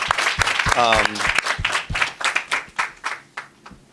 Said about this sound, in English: If we can give them an applause, this is amazing.